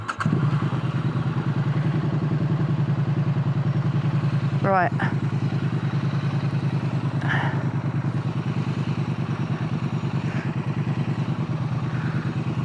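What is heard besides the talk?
motorcycle riding sound heard through helmet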